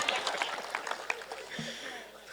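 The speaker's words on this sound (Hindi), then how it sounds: "मैं कुछ भी बोलूं तालियां बजाने लगते हैं ये" Applause from a mushaira audience in Udgir: a burst of soft, fairly distant clapping that tapers off within a second or so, with a few stray claps and a voice after.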